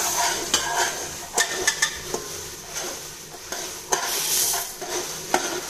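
Flattened rice (aval) tossed and stirred in a pan for a quick puffed aval snack, a dry continuous rustling sizzle broken by sharp scrapes and clinks of the spoon against the metal, close and unaccompanied by speech.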